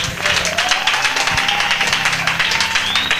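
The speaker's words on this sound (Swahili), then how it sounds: "Pigie tena Yesu makofi wa." A church congregation breaks into dense, sustained applause that fills the space evenly from start to finish, with no pauses.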